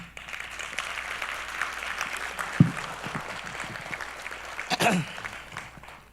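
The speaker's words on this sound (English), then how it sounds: "Can we please give these folks and this young gentleman a big round of applause?" Audience applause at an introductory session of a conference, a steady wash of clapping from a crowd that swells briefly near the end, heard from some distance at moderate level.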